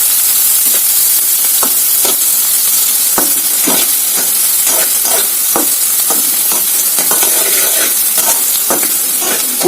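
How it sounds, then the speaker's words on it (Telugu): Onions fry in hot oil, producing a loud, continuous hissing sizzle punctuated by frequent spatula scrapes as they are stirred, close up and with no talk. "ఆయిల్ అయితే హీట్ అయింది కదా. ఆనియన్స్ అయితే వేసేసుకుందాం. కొంచెం ఇలా కలుపుకోండి."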